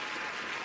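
Applause from an audience, a dense, even wash of clapping filling the brief moment without pause.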